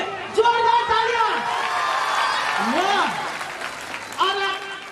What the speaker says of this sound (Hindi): कल्लू डीजे भाई के लिए जोरदार तालियां